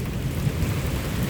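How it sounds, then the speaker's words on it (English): A thunderstorm rumbles on a Sunday evening, low, continuous thunder rolling under steady rain, close and fairly loud, with no voices. "and we have a good storm."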